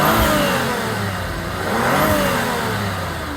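A warmed-up Saab 9-5 with a 2.8 V6 twin-turbo engine revs twice, each rise swelling smoothly over a steady idle, recorded close with no voices.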